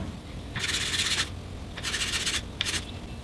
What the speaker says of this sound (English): And I can sand the top and bottom.